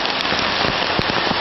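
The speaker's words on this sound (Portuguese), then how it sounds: "para vocês verem o tempo que faz e anda a chuva" Heavy tropical rain pours down in Cambodia, a dense, loud, continuous hiss with scattered sharper drop impacts close by and no voices.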